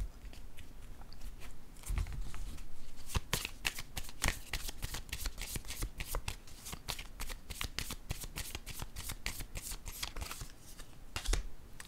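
A deck of cards shuffled by hand, a long run of quick, crisp riffling flicks and taps, close and fairly quiet, with no talking.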